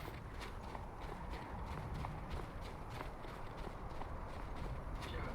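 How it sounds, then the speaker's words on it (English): Ibex hooves running as the animals flee in the Beyond Skyrim game, a steady patter of clip-clop footfalls under a continuous ambient wash, moderately faint and without voices. "The goats flee."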